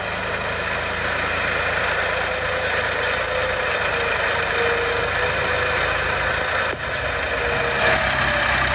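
A 25-horsepower walking tractor with eight forward gears ploughs in a sugarcane furrow, its engine a loud, steady, close mechanical drone that runs unbroken throughout with no talk.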